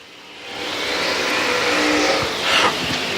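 A race car accelerates out of turn 4 on an oval track, its engine swelling to a steady loud roar as it passes close by.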